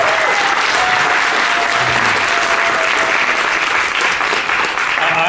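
An audience gives a round of applause for the event team. The clapping is dense, sustained and loud, and a crowd fills the whole stretch with even, continuous sound.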